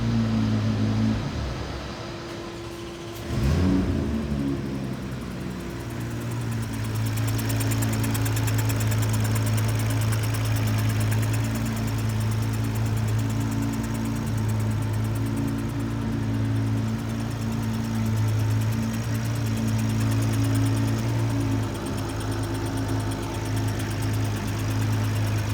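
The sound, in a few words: engine rattling, leaking injector nozzle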